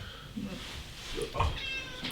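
During a tabletop board game, a person's voice imitates a cat's meow, a short whiny call heard close over soft room noise.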